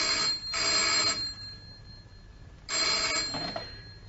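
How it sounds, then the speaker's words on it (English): An old telephone bell rings in two loud bursts, the first about a second long and the second following after a pause, with no talk over it. "the phone rang."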